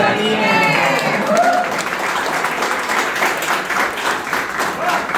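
Sustained applause from an audience at an engineering college event after a poem is recited, steady and fairly loud throughout, with a voice audible over the opening moments.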